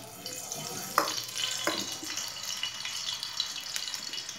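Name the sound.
oil being poured into a wok (kadai)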